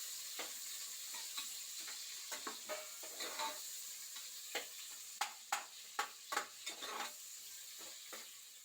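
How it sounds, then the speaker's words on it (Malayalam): Sliced onions and ginger-garlic paste fry in a pan, a steady soft sizzle broken by frequent sharp scrapes and taps of a spoon stirring, with no voices. "അരിഞ്ഞു വെച്ച സവാള ഇട്ട് കൊടുക്കുന്നുണ്ട്. പിന്നെ ഇഞ്ചി വെളുത്തുള്ളി പേസ്റ്റ് അതും ഇട്ടിട്ട് നന്നായിട്ടൊന്ന് മൂപ്പിച്ചെടുക്കാം"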